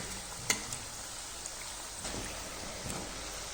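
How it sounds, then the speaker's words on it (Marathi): Jowar flour snack frying in oil over a medium gas flame, a steady soft sizzle with a few faint crackles, close and even throughout. "तर लालसर होईपर्यंत काय करायचं, चांगलं तळून घ्यायचं मध्यम गॅसवरती."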